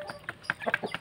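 A Burmese chicken rooster in Cianjur, West Java, gives a quick series of short, close clucks in uneven bursts over about a second, with faint farmyard background.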